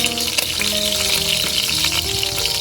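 Meat searing hard in a hot pan to build browned fond for a lasagna tomato sauce, a loud, dense, close sizzle that hisses steadily throughout with no voices.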